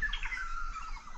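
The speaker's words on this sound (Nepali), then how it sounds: "चरा चाहिँ कराउँदै छ माथितिर हो" Birds chirp outdoors in a Nepali village in the morning, a short run of faint, bright tweets set against a quiet background.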